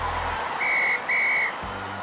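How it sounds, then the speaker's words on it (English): A referee's whistle in a children's cartoon football match gives two long, shrill blasts in quick succession, loud and clear over a faint background, with a low tone at the start and end. "And that's the final whistle."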